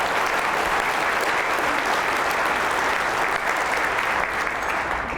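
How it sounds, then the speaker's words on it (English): Sustained, dense applause from a dinner audience at a city's State of the City event, loud and even from start to finish with no break or voice over it. "Let's give them a round of applause."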